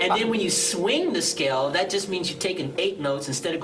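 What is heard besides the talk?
No everyday noise stands out behind the speech.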